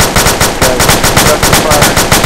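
Rapid automatic gunfire in the infantry combat video game ArmA II, a loud close burst of evenly spaced shots firing continuously without a pause.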